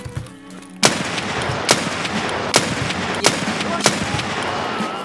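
Shotgun fire in the video game Escape from Tarkov: loud, booming shots at a steady pace of roughly one every second over a dense, noisy game background.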